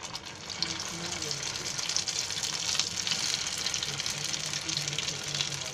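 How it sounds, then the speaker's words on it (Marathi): Bread rolls lowered into hot oil in a pan on a low gas flame, giving a steady close-up hiss and bubbling sizzle that holds throughout, with someone speaking over it. "तेल तापलं आहे आणि आता रोल आहे ना त्याच्यामध्ये सोडते सगळे"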